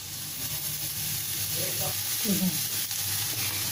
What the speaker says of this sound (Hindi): अब जब तक ये हमारा मसाला भून रहा है